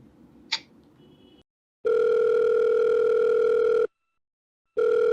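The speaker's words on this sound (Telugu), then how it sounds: "ఒకసారి కాల్ చేస్తానండి." Telephone ringing tone on an outgoing call: two long, loud steady electronic tones separated by a pause, with a third beginning at the end, preceded by a faint click and low background noise.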